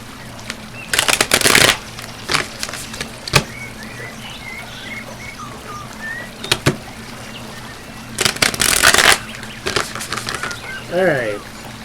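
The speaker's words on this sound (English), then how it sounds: "get a couple shuffles here." Tarot cards are shuffled in several brisk riffling bursts with quieter pauses between them, close up, over faint background hum.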